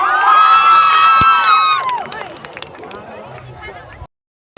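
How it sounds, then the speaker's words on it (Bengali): A college freshers' welcome crowd cheers and shouts loudly for a singer taking the stage, with whoops and high voices swelling at first, then fading into softer crowd noise before a brief silence. "জোরে হাততালি হবে, একটা জোরে হাততালি"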